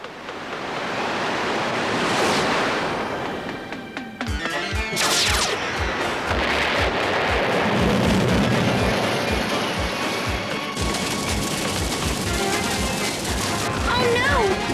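Cartoon floodwater surging from a burst dam above Metro City, a loud, continuous roaring rush with crashing bursts and splashes, no talking.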